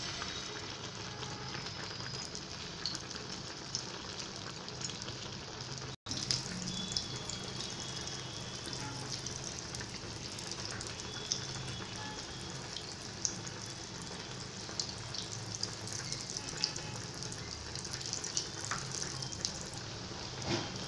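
Shami kofte frying in hot oil in a frying pan, a continuous even sizzle and crackle that carries on steadily, with one brief dropout partway through.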